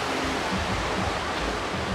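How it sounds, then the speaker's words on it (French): A river in a jungle national park rushes in a steady, close, broadband wash of flowing water, with no voices. "Donc là, il y a une belle rivière."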